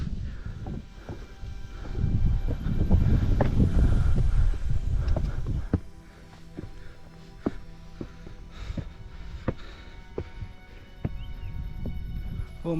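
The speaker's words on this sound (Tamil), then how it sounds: "காற்று நல்லா அடிக்குது," Wind gusting across an exposed hill trail on Rangamalai hill, a loud low rumble for the first six seconds that eases into lighter buffeting with scattered knocks and footstep-like thumps.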